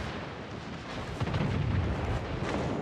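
Naval guns fire at an enemy ship in the World of Warships: Legends video game, a dull rumbling boom rising out of a continuous low roar of battle that keeps rolling without a break.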